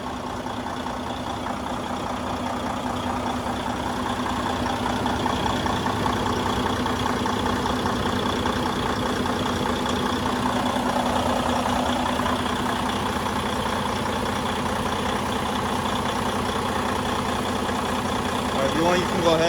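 A Detroit Diesel DD15 truck engine idles steadily while its new fuel pump primes, a constant low drone and hum held for the whole stretch with slight variation, close by and loud, with a person talking over parts of it.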